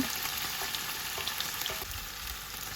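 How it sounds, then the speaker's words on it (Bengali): Chopped onions frying in oil left from frying chicken, a continuous bright sizzle with scattered soft crackles and faint stirring, no voices. "এখন চিকেন ভাজা তেলের মধ্যে দিয়ে দিচ্ছি দুইটি মিডিয়াম সাইজের পেঁয়াজ কুচি"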